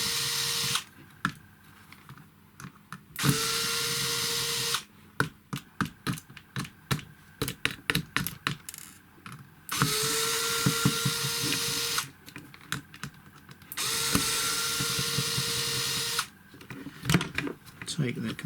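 Power screwdriver backing four screws out of a GHD MK4/MK5 hair straightener whirs in several sustained bursts, separated by clicks and handling rattle, close and loud.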